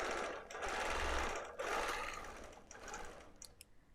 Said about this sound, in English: And then I proceed to quilt.